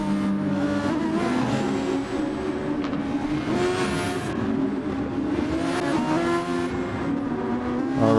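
Race car engines roar in a Formula 1 racing video game at Sardegna, a dense sustained whine of several engines with rising and falling revs and occasional tire squeal, loud and continuous without talk.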